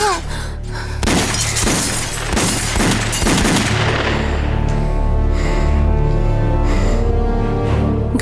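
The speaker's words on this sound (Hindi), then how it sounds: "घर पर हमला कर दिया है किसी ने। गोलियां चला रहा है अंधाधुंध।" Rapid, indiscriminate gunfire hits a house, a burst of sharp cracks and shattering impacts over the first few seconds, then easing into a sustained ringing rumble while the attack continues.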